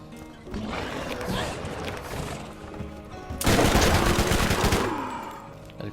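Rapid automatic gunfire from heavy weapons in the shooter game Borderlands, dense bursts of shots rattling continuously and swelling louder midway, with a heavy barrage in the second half before tapering off.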